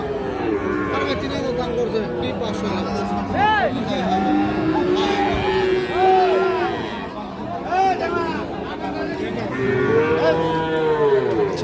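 Sahiwal breed bull calves and other cattle at a livestock market moo repeatedly, several loud, drawn-out calls close by, over steady crowd chatter and people talking.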